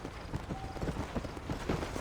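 Rapid clip-clop of horse hooves galloping in Red Dead Redemption, a steady rhythmic drumming that runs without pause, close and moderately loud over game ambience.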